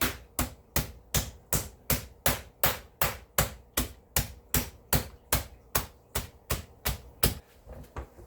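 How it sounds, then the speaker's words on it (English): Chicken breast pounded flat with the flat end of a meat mallet, about twenty sharp, evenly spaced thuds in a steady rhythm, close and loud with no talk. "with the flat end, not the pointed end, we are going to pound this down to about a 1/2 inch thick"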